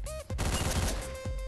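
A sharp burst of gunfire erupts in the video game Hotline Miami, with a couple of distinct loud shots cracking over a ringing tone; no speech.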